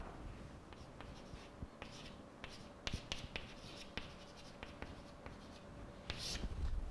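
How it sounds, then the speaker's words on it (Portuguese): Marker or chalk scratching out a name on a classroom board during a physics lecture, a run of short strokes and taps with quiet room tone between them, no talking. "Boltzmann, escrever aqui o nome dele"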